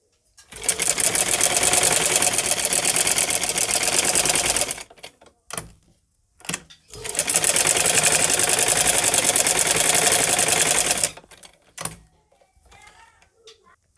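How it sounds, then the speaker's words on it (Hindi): A sewing machine stitches a fabric cord for a latkan in two long, loud bursts of rapid, even mechanical chatter, separated by a short pause and a few faint clicks, with no one speaking. "अब हम इसको इस तरह से बीच सेंटर में रखेंगे और यहाँ इसके ऊपर हम सिलाई लगाएंगे"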